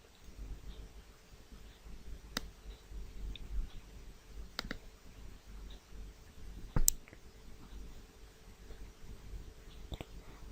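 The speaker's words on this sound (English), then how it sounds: "Click here to exit." A computer mouse clicks a few times, faint and close, on a quiet desk while a text editor is closed. Four or five crisp single clicks are spread apart, with no talk.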